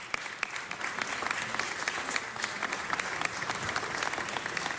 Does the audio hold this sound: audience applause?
yes